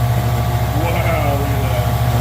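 A rusty rim-clamp tire changing machine spins its turntable, giving off a steady, loud mechanical hum with a low motor drone that holds unbroken from start to finish.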